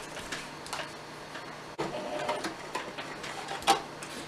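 Sewing machine stitching fabric samples together for a bag, a fast mechanical whirring with ticking clatter, in short bursts separated by a brief pause, close and fairly quiet.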